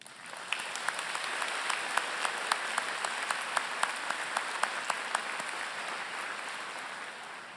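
Sustained audience applause at a spring university graduation ceremony, dense steady clapping from a large crowd filling the hall at an even level for several seconds, with sharper individual claps standing out.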